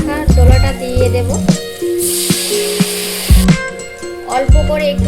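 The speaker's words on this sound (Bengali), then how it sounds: "মশলাগুলো আমার ভাজা ভাজা হয়ে গিয়েছে" Spices frying in an oil-filled pan while cooking a Bengali dish, a steady sizzle with bursts of louder hissing spray and occasional stirring scrapes and clinks close by.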